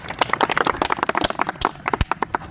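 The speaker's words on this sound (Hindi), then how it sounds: "ताली हो जाए।" A classroom group claps together in a brisk burst of distinct, irregular hand claps, fairly close and moderately loud, with individual slaps audible and a few louder accents toward the end.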